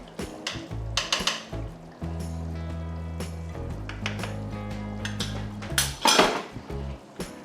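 A spoon scrapes and clinks against a pot while thick, boiling beef and bean chili is stirred, with soft sloshing and a brief louder clatter near the end.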